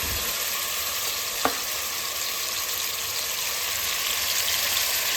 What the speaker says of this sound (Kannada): ಆ ಮಟನ್ನ ಕುಕ್ಕರ್ಗೆ ಹಾಕ್ಕೊಂಡು ಒಂದು ಸ್ವಲ್ಪ ಫ್ರೈ ಮಾಡಬೇಕು.